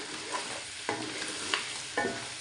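Chicken sizzles and fries in a pan with chili, salt and spices, with a steady hiss and a few sharp scrapes as it is stirred, close and unaccompanied by speech.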